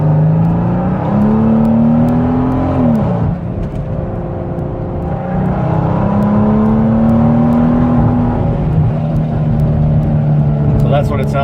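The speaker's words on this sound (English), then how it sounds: "So that's what it sounds like, full throttle." A car pulls hard at full throttle on an 85 and 93 fuel mix, its engine note climbing loudly through gears with a brief dip at a shift, close and continuous, with someone talking over it.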